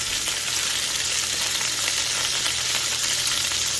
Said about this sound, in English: We just let them sear a little and turn them over.